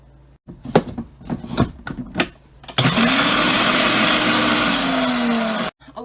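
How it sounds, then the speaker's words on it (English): Countertop blender mixing soy milk, canola oil and seasonings for a half batch of mayonnaise, loud steady whirring for about three seconds, preceded by several clicks and knocks of lids and containers. "So I'm doing a half batch because that's what fits in my blender"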